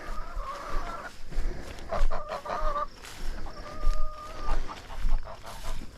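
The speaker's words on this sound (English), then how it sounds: "Here's 3 of our 6 turkeys." Turkeys in a straw-bedded isolation pen give repeated close gobbling and clucking calls in short bursts, with scuffling and rustling between them.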